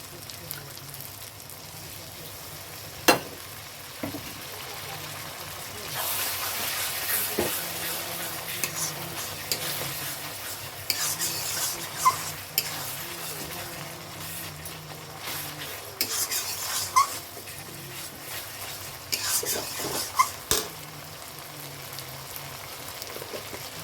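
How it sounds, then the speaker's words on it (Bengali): Mutton curry sizzling and frying in a pan with water, an ongoing crackle broken by repeated scrapes and clinks as the pot is stirred, heard up close. "জল দিয়ে ভালো করে কষিয়ে নেব।"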